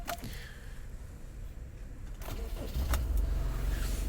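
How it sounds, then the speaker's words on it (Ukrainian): The engine of a 2013 Honda CR-V cranks and catches at once, then settles into a steady low idle, heard close up from inside the vehicle. "Заводиться автомобіль з півоберту"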